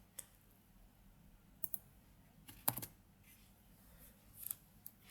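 Computer keyboard keys pressed for a paste shortcut, a few sparse, quiet clicks separated by pauses, with one slightly sharper click near the middle and no talking.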